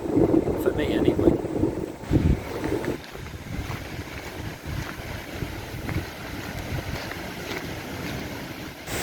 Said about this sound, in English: It's a very strong wind, but it's not cold at all